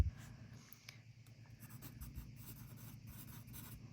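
A pencil writes uppercase letters on smooth paper similar to Muji stock, a quiet, continuous scratchy rubbing with short strokes and brief pauses, close up and alone.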